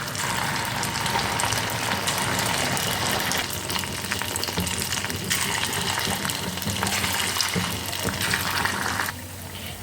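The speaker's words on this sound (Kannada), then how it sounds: "ಈ ರೀತಿ ಸಣ್ಣ ಸಣ್ಣದ ಬಜ್ಜಿಗಳನ್ನು ಬಿಟ್ಕೊಳ್ಳಿ" Small bajji fritters hissing and bubbling steadily in hot frying oil, a loud, continuous sizzle up close with no speech.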